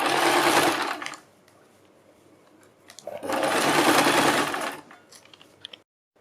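A sewing machine stitches cold-shoulder sleeves onto a garment in two loud, close bursts of fast, even whirring, each lasting about a second or more, separated by quiet pauses with small handling clicks.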